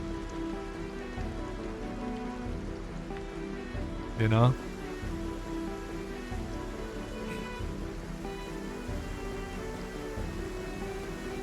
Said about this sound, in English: the rain sounds are emitting from the trees themselves, which is where they're supposed to come from